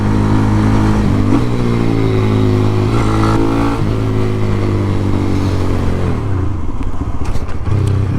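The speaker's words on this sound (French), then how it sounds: "tant que le moteur tourne bien, c'est clairement l'essentiel" A Honda Grom motorcycle engine runs loud and close on a country road ride, holding a steady, buzzing tone with a few small shifts in revs before the note falls away near the end.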